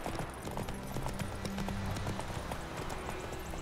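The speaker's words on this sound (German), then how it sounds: "das ist Galopp. Oder halt schneller reiten." A horse gallops in The Witcher 3: Wild Hunt, its hoofbeats a rapid, steady clip-clop rhythm at moderate volume with faint background sound.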